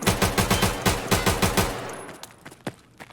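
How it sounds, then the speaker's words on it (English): Sustained automatic fire from an AK-74N rifle in Escape from Tarkov, a fast even string of loud sharp shots for about two seconds, then a few spaced single shots tapering off. "I'm just gonna dump the rest of this mag out"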